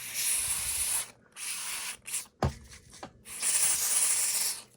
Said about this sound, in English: I'm gonna spray this cleaner here.